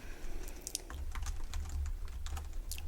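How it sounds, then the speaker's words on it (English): Typing on a computer keyboard, a steady patter of soft clicking keystrokes close by with brief pauses, over a low background hum and with no talk. "I'll be typing in your answers as we go"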